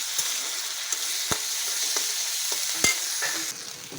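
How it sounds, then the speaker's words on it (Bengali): Ginger garlic paste frying in a pan, a steady sizzle broken by several sharp scraping knocks from stirring, close and alone with no talking. "এবার দিয়ে দেবো আদা রসুন বাটা। এটা একটু ভেজে"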